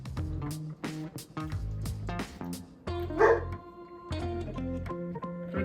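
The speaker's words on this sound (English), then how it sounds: "Excuse my dogs." Household dogs bark and yip in short repeated bursts close by, with a few whimpering notes mixed in, heard in a kitchen while a whole duck is being air-fried.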